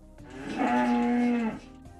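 Hungry dairy calves and cows bellow for each other at nursing time after milking. A single long, loud, close moo rises and holds steady for about a second, with no other sounds around it.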